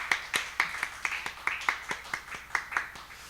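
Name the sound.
congregation clapping to welcome newcomer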